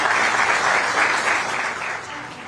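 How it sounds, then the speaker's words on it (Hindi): At a public forum on Telangana election issues, a big crowd claps to welcome the public, a broad wash of applause that is steady and full, easing off slightly near the end. "एक बार तालियों से स्वागत करिए जनता का,"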